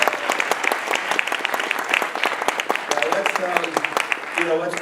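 A theatre audience at a film premiere panel in the Regent Theatre, Arlington, Massachusetts bursts into sustained, loud applause, claps packed densely throughout, with a voice speaking over it near the end.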